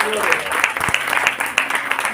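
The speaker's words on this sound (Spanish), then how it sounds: "da ese aplauso al Rey de Reyes" A church congregation claps loudly and steadily in applause at a worship service, with a voice talking over the dense clapping.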